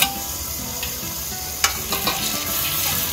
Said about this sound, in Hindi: इसको भी थोड़ा सा फ्राई करेंगे,